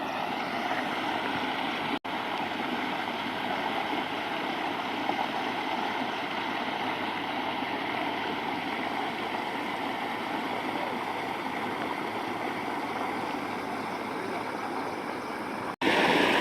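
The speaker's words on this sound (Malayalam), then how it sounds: "ഇതുണ്ട് ചെറിയൊരു തോട്, ആ മലയിൽ നിന്ന് വരുന്ന വെള്ളം കേട്ടോ" A small mountain stream trickles and gurgles over rocks near Vellarimedu, Kollengode, a steady close, broadband rush of flowing water that continues unbroken with no voices.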